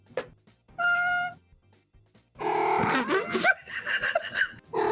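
A cat meows close by in a few bright, drawn-out calls separated by short pauses, with laughter or chatter from people mixed in around the later calls.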